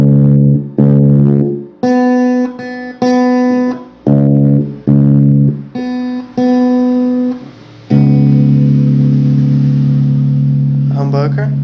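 Electric guitar through a homemade single coil pickup, with a series of loud plucked notes and chords ringing with rich harmonics, then a long sustained chord with a faint buzzy hum beneath.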